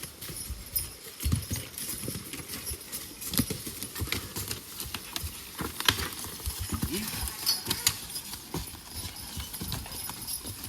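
Logging horses' hooves step and clop irregularly on the ground nearby while skidding logs, with scattered thuds and light jingling of tack, fairly quiet and steady.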